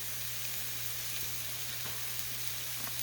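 Onion sizzling in a frying pan alongside a little carrot and purple cabbage for corned beef hash, a steady close crackling fry with a low hum underneath and no talking.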